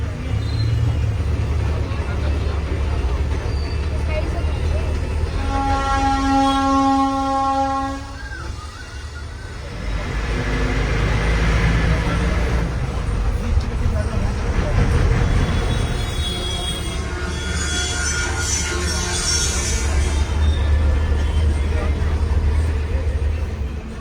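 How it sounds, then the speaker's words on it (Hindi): A UTC bus pulls away from the busy Haldwani bus stand beside the market and railway station, its engine a loud continuous rumble with a long horn blast partway through, traffic and crowd noise around. "इसके बाद बस अब यहां से आगे निकल रही है।"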